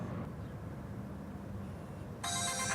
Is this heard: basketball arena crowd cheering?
no